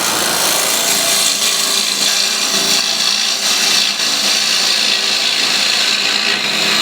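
A cutting tool scrapes steadily against wood spinning on a lathe, a continuous close-up hiss and rasp that holds even throughout with no pauses or voices.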